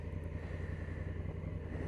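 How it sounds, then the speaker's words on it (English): Exhaust of a 2018 Honda Africa Twin Adventure Sports motorcycle idling, a steady, deep, low throb that holds even throughout with no voices. "The exhaust sounds absolutely fantastic."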